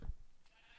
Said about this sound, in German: Da hört man auch fleißig, die Schafe werden geschoren.